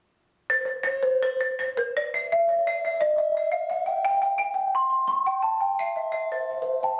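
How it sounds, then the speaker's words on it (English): The tune Row, Row, Row Your Boat is played in 31-tone equal temperament on a clean, bright synthesized or electronic instrument, a steady stream of distinct notes entering after a short silence and sounding alone and fairly loud. "I'm going to play Row, Row, Row Your Boat in a brand new way."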